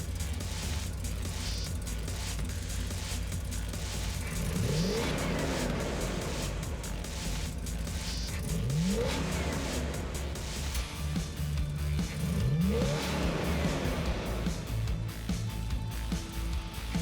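Nissan S13 fitted with a swapped JZ engine from Brood Motors, revving in repeated rising sweeps, roughly three climbing bursts over a steady loud engine drone with no talking.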